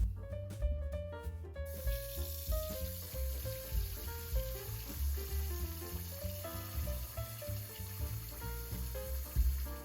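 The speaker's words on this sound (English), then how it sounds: "So here I'm just covering it with water and I'm squeezing the dough between my fingers." Wet squelching and swishing as seitan flour dough is squeezed and massaged by hand under water, an irregular, close sequence of soft splashes and slippery rubbing.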